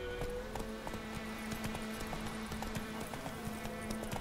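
Horse galloping in The Witcher 3: Wild Hunt, quick rhythmic hoofbeats clopping steadily under a low droning game soundscape, moderately close and fairly quiet, with no talking.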